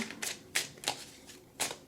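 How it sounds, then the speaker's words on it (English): A Making Magic oracle card deck being shuffled by hand, heard as a quick series of crisp, papery bursts at an uneven rhythm, close and fairly quiet, with no talking. "We are going to shuffle."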